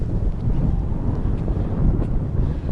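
Strong gusty wind buffets the microphone beside a lake in Ternopil, a steady low rumble that swells and dips over the whole stretch with no voices.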